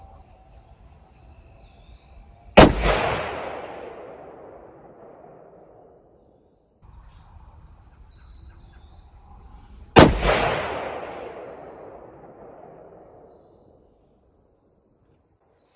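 Two loud, sharp .30-06 Mauser rifle shots fitted with a clamp-on muzzle brake, fired at an open outdoor berm, each a close cracking blast with a long fading echo, spaced several seconds apart over a steady insect chirp.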